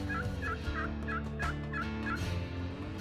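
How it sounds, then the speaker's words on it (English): A wild eastern turkey gobbler in the Ouachita Mountains of Arkansas at daybreak on opening day, gobbling repeatedly in a rapid series of warbling calls, distant over steady background noise with no talking. "We heard some gobbles"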